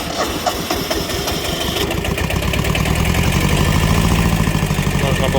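The diesel engine of a small Kubota B7000 tractor cranks and catches, then settles into a loud, steady rattling idle up close, with someone talking over it.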